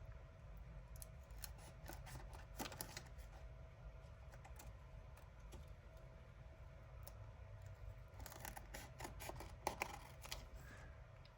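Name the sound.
scissors cutting around a playing card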